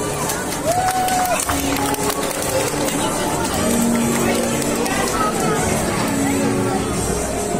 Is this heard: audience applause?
yes